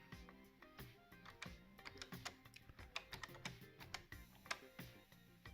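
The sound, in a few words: typing a username on a Minitel keyboard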